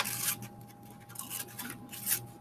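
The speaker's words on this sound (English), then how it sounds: "we're going to cut and make 3 flaps. We're going to cut right along here" Scissors snip through a paper foldable, cutting flaps along drawn lines, with a series of close, crisp cuts and rustles in an uneven rhythm and no talking.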